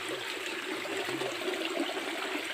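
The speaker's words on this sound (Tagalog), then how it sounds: "Ito po yung batis namin dito." A stream in Quezon flows steadily throughout, giving a continuous broadband rush and trickle of water with no talking.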